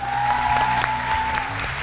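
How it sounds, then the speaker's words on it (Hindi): Studio audience applause on a Pakistani game show, a steady wash of clapping with a sustained tone and music running underneath throughout. "बहुत सारी तालियां।"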